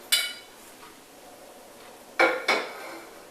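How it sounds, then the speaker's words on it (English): A kitchen pan lifted and set down, giving one sharp metallic clank followed by two more close together a couple of seconds later, near and distinct against quiet room tone. "And now lifting the pan"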